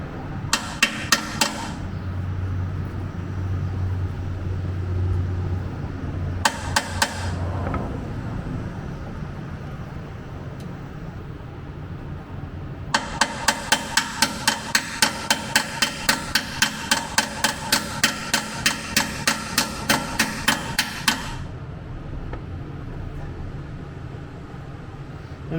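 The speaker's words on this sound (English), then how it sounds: "you want to hammer it in straight" A hammer drives a rear subframe sleeve into a car's subframe: a couple of short bursts of metallic strikes, then a long, rapid, even run of ringing blows, close and loud.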